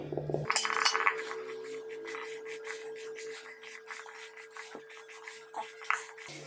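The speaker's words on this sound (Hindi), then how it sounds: "तो इन सारी चीज़ों को हम इसके अंदर अच्छे से अब मिक्स कर लेंगे" Laddu mixture of ground gond and dry fruits being stirred together in a vessel, a rhythmic series of close scraping and clinking strokes of a spoon against the metal, no talk.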